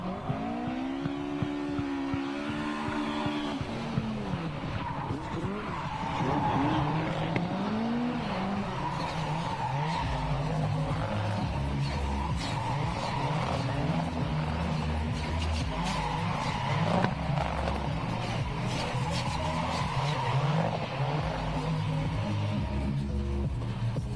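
Drift cars on a track at a live motorsport event, engines revving and tires squealing continuously, with pitch sweeps as cars slide past and a steady loud roar throughout.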